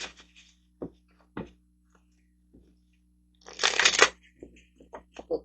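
Tarot cards shuffled during a reading: a loud, dense riffle burst lasting under a second, set among a few lighter scattered card taps and flicks, close and without talk.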